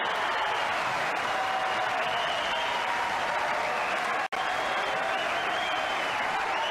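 A tennis crowd at the 2006 Monte Carlo clay-court tournament applauds in a dense, sustained roar of clapping that runs on for several seconds, broken by a brief dropout, with a commentator's voice faintly underneath.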